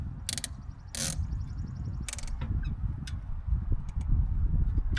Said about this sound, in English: I always like to put the top tube strap on first to hold it in place.